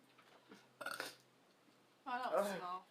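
A burp during a mukbang eating show of shrimp, jalapeño cheddar poppers and corn on the cob, with a short rough belch near the start and a longer, louder voiced burp toward the end, close and alone.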